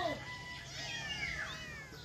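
A weak, hungry kitten meows in repeated thin, rising cries during a rescue, close by and clear over a low background hum.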